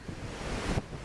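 A strong wind roars across the microphone in a brief, loud gust, with a rushing sound like surf beneath it.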